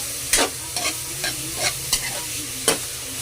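Pork stirred in a hot frying pan: a steady sizzle of frying meat with a few sharp scraping strokes of the spatula spaced across a few seconds, close and fairly quiet, with no talking.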